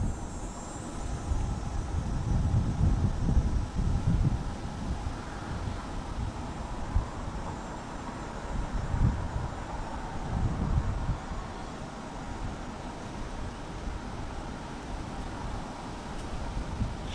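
Steady wind rushes and buffets the microphone throughout, a continuous low roar with no voices, under fast-moving clouds ahead of strong thunderstorms.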